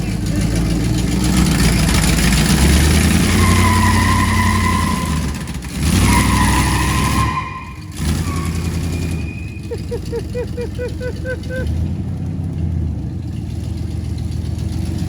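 An old car engine that sat for 30 years runs steadily, a loud continuous rumble close by, while people talk over it excitedly.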